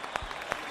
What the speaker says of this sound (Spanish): ¡Aplauso para esta orquesta!